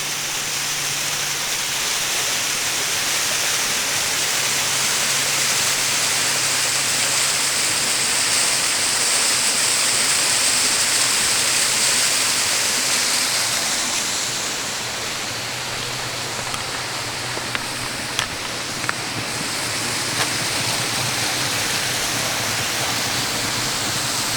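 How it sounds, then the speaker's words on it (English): Crabtree Falls in Virginia's mountains pours down a series of cascades, a steady, full rushing roar of falling water close by that holds its level throughout, with a few faint clicks near the end. "What it is really is just a series of waterfalls and cascades that come rushing down the slope of the mountain on its way down to the Tyro River."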